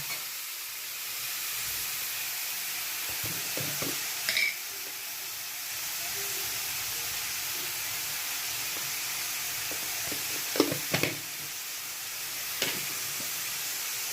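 Ash gourd fries in a pan, a soft, low sizzle with occasional faint clicks and scrapes as it is stirred, quiet and without talk.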